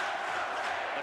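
A packed arena crowd at a 1983 Iowa State versus Missouri college basketball game roars and claps en masse, a dense, steady wash of cheering heard from a distance without any distinct voices.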